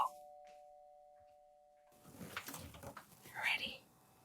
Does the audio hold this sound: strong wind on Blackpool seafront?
no